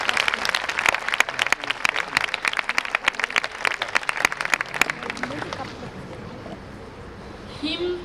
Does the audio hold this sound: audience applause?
yes